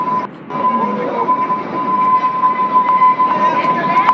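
The Kalka-Shimla toy train rolls along the mountain railway near Shimla with a steady loud rumble and a constant whining tone, a few faint clanks, and voices talking over it.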